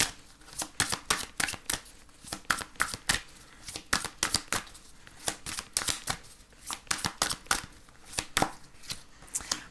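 Tarot and angel oracle cards being shuffled by hand, a steady run of crisp riffling flutters and soft slaps repeating closely and evenly with no talk.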